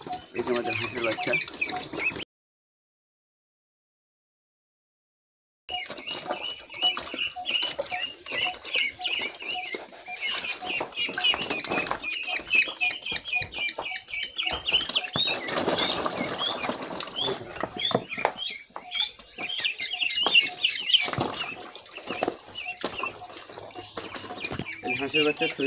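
Ducklings flap and splash in a small homemade swimming pool of plastic sheeting, giving busy, rapid fluttering and chirping that swells and fades after a brief silent gap near the start.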